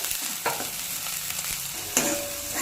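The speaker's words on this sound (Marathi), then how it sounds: "लगेच कढीपत्ता टाकायचा, म्हणजे छान चव उतरते आमची कढीपत्त्याची। आणि लो गॅसवर छान परतून द्यायचं।" Curry leaves and masala fry on low gas in a pan, giving a continuous soft sizzle with occasional stirring scrapes and clatters.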